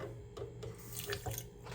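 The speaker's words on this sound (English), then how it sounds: "Put a little water." Tap water runs into a cast iron skillet with coarse salt in it during scrubbing, a short splashing, gurgling stream close by with small uneven bursts.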